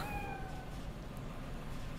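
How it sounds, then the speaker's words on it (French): A cat meows in Cyberpunk 2077, a couple of soft rising cries early on over a steady low game background hum. "il est où le chat"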